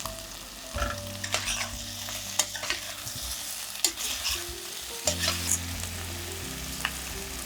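Tomatoes, potatoes and coriander stir and fry in a single pot for pumpkin pulao, a steady sizzle broken by scraping spoon strokes and clattering knocks against the pot, with no talking.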